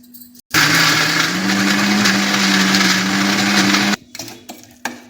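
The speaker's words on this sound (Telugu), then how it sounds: "ఇప్పుడు ఇది మిక్సీ వేసేద్దాం." A mixer grinder whirs loudly and steadily for about three and a half seconds, blending salt, tomato pulp and other ingredients for a yellow cucumber and green chilli chutney, then cuts off abruptly.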